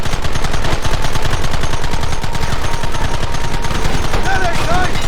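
Dense, loud rapid gunfire from Red Dead Redemption, machine-gun-like bursts and shots overlapping continuously without pause, with faint game voices in the mix.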